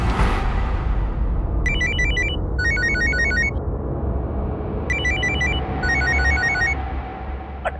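Two pairs of electronic ringtone bursts chirp out from a phone, bright and fairly close, over a steady murmur of room noise.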